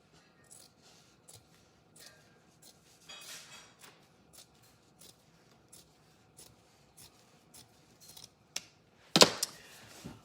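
Scissors snip through fabric for a handmade bunny tapestry, a string of faint, separate cuts followed by a louder rustle of cloth near the end.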